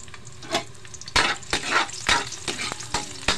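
Garlic frying in a pan sizzles steadily and close by, broken by bursts of louder crackle as it is moved and stirred.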